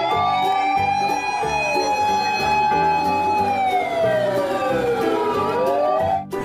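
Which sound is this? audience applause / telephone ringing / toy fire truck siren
toy fire truck siren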